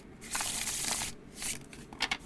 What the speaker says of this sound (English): go ahead and shuffle. And shuffling with these cards are so easy.